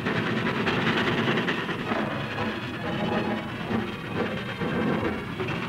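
A wartime freight train runs along the railway, a steady, loud rumble and clatter of wheels and cars rolling on without pause.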